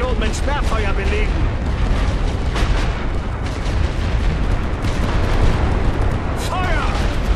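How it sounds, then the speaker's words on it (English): Artillery barrage in the First World War strategy game The Great War: Western Front, with dense, continuous booming and rumbling explosions under commands spoken in German. "Diese Position mit Sperrfeuer belegen."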